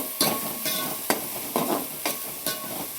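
Finely chopped onions sizzle in a hot pan, cooking until reddish, with a steady frying hiss broken by five or six loud scraping stirs at roughly half-second intervals, close and clear with no talking.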